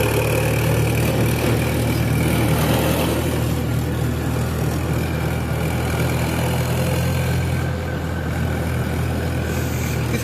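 A Mahindra 475 DI tractor pulling in third gear on a rough, uneven road, its diesel engine a steady, loud, low drone that runs unbroken from start to finish with no voices.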